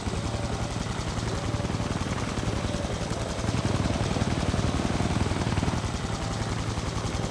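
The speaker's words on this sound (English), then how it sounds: "Yes, that'll start the rotors." In the video game Garry's Mod, a helicopter's rotors spin up into a continuous loud, rapid thudding chop over a dense engine whine, steady throughout and heard alone without speech.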